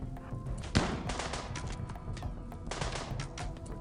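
Rimworld gunfire, one sharp close shot followed by scattered lighter shots and crackling over a busy game background.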